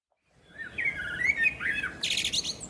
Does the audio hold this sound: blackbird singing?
yes